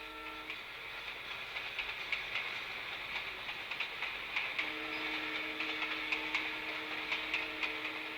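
A train passes through the narrow city of Split, Croatia, with a steady rumbling roar and repeated rhythmic clicks of wheels over rail joints, moderately loud and continuous throughout.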